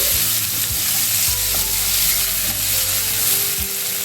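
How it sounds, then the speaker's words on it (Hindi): Finely chopped onion frying in hot oil for a palak paneer, a steady, loud sizzle and crackle with occasional stirring scrapes throughout. "अब हम इसमें डालेंगे 1 छोटी साइज के प्याज, जिसे मैंने बहुत ही बारीक काट लिए। प्याज को हल्का भूनेंगे"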